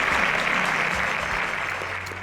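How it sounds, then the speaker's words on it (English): Audience applause for an honoree at a televised junior competition, a steady wash of many hands clapping that holds fairly loud and evenly before easing slightly toward the end. "Please, a round of applause to Peace."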